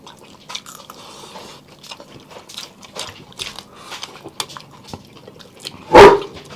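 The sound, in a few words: large dog barking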